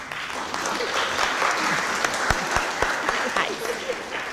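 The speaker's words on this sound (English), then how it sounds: "give them an applause" A crowd applauds at a city Board of Aldermen meeting, a sustained round of clapping with a few sharper individual claps popping out near the end, fairly close and loud.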